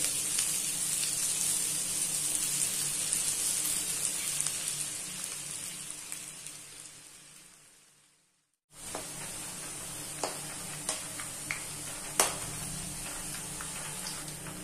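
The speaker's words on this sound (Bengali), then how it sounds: "তেল গরম হয়ে গিয়েছে, এবার এগুলোকে এভাবে দিয়ে দেবো। হালকা ফ্রাই করব 2-3 মিনিট।" Food lowered into hot oil sizzles in a dense, steady hiss, fading out briefly to silence, then resuming with scattered pops and crackles, close and continuous with no talking.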